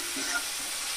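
Garlic paste going into a pan of onions and being stirred as it fries, a steady soft sizzle with faint scraping of stirring, close and continuous for about a second, no talking.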